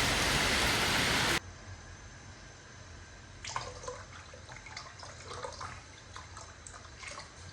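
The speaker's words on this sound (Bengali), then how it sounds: "বাইরে বৃষ্টি হচ্ছে" Rain falling outside, heard as a soft, steady patter with scattered drips against a surface, fairly faint and distant, following a brief burst of harsh noise at the start.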